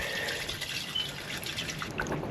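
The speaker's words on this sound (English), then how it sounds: "So I'm hoping once I pull out this little end section, we should have some water flow." Water trickles and drips steadily from a drain just cleared of a blockage at an abandoned countryside house, a close, continuous liquid flow with small splashes.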